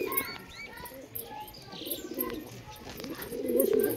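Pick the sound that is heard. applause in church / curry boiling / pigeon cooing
pigeon cooing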